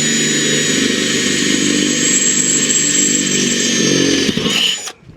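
A power drill with a 1/4 inch bit runs at full speed through a pilot hole in a metal kettle grill, a loud, steady, close whine that holds for several seconds, then slows and stops abruptly.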